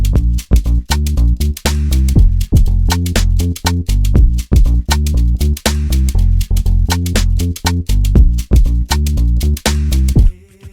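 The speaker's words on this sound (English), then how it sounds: "Next thing was an ambient clap." Looping electronic beat with bass and shakers, punctuated by a roomy, reverberant clap on the backbeat; loud and steady, no talking.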